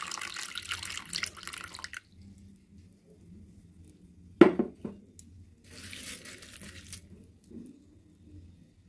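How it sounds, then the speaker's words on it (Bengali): Sago pearls being rinsed in water: a burst of running tap water, then a sharp splash and sloshing as the grains are swirled by hand, followed by a second pour of water, close and fairly quiet. "প্রথমে কয়েকবার জল দিয়ে ধুয়ে নেব"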